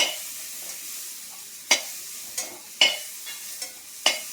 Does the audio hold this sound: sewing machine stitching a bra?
no